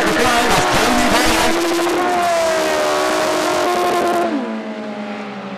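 Race cars scream around a track at full throttle, a loud, sustained engine roar with shifting pitch as cars pass close by and the note drops away near the end.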